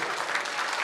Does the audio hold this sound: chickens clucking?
no